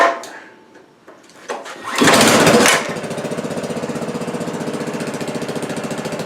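A garden tiller's small engine, left sitting for two years, cranks with a few pulls, roars up loudly and then settles into a steady, close, rhythmic chugging idle.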